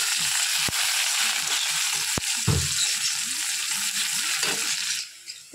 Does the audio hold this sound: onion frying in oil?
yes